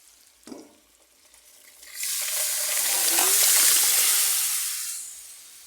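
A thick masoor lentil ghonto with chicken feet and skin is poured into hot oil, erupting after a quiet start and a single knock into a loud hissing sizzle that swells, holds, then gradually fades.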